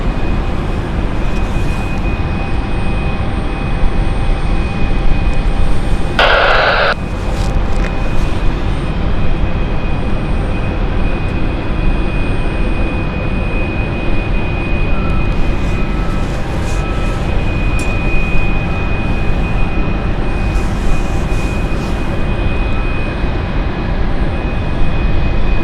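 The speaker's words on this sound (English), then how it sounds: "runway 27, clear for takeoff" Airplane taking off from runway 27 at London City Airport, a loud steady roar of jet engines holding throughout at close range, with a brief tonal burst partway through.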